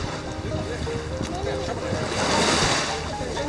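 A speedboat's engine drones steadily over rushing water and wind buffeting the microphone, with the wash swelling louder near the end.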